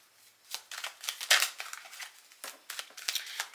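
Tarot cards are shuffled by hand in quick, crisp riffles and slaps, close and fairly soft, in uneven bursts with short pauses between them.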